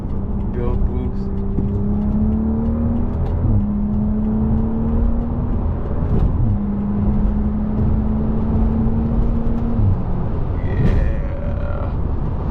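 A BMW F10 pulling hard in third gear while building turbo boost, a loud rising engine drone that climbs steadily with brief dips at shifts, heard from inside the car.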